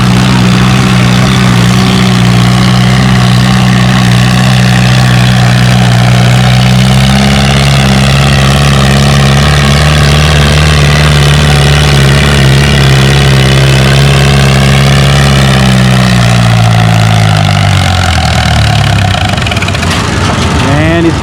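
An Allis-Chalmers E12 tractor strains against a heavy pulling sled at a tractor pull, its engine roaring loud and steady with a deep throbbing tone, then winding down near the end.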